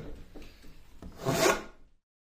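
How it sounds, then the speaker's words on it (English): A handsaw scrapes intentional marks into a hand-carved wooden beer mug, with a few light rasping strokes followed by one louder, longer rub, close up and then sudden silence. "I decided to add some intentional marks with my handsaw to give it a more aged and used look"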